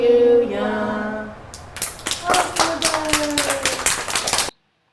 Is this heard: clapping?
yes